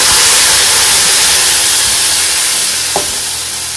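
Spice paste sizzling in a pan for potato curry, a loud, dense, continuous hiss close to the mic that slowly eases, with one brief knock partway through.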